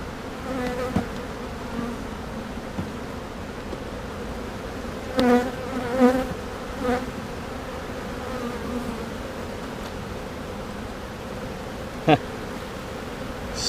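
Honeybees buzz steadily in an open hive during an inspection, a close, continuous hum with brief louder swells as bees fly near, and no talking.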